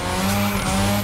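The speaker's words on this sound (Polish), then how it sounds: "To przy okazji sprawdzimy driftowanie w dokach maździochą." A Mazda drifting through docks in TC Motorfest, its tires squealing continuously alongside a steady engine drone, close and loud with no talk.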